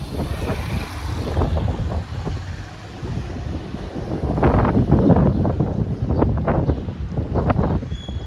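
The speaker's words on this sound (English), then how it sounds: "There's a bit of a breeze blowing today." A steady breeze on the island of Kos buffets the microphone with continuous wind rumble, growing stronger and gustier in the second half, with no one talking.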